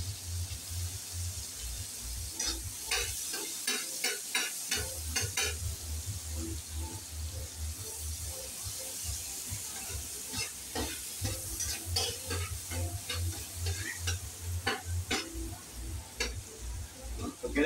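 Garlic and onion sauté in a pan with a chicken cube for pansit bihon, giving a soft, continuous sizzle broken by scattered clicks and scrapes of a utensil stirring against the pan.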